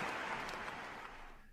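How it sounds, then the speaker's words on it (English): Tennis crowd at the Monte Carlo clay-court event applauding after a break back to 5-5 between Sinner and Machac, a brief steady clapping wash that fades out at the end. "And the crowd go wild."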